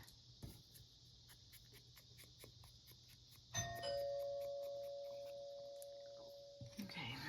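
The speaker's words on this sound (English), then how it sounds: "the doorbell rang" A doorbell chimes once indoors, its bright tone ringing out clearly and then sustaining as it slowly fades over several seconds, heard above a quiet room hum with no talking.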